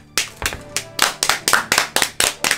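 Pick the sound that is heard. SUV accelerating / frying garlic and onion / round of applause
round of applause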